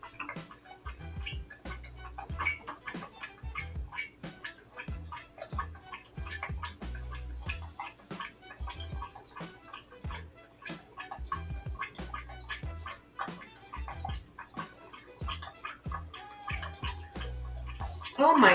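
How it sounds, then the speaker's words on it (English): A dog drinks water, lapping close by in a quick, steady, rhythmic series of wet slurps that goes on and on. "You're drinking a lot of water."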